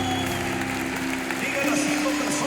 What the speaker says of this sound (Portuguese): Forte esse aplauso a Ele.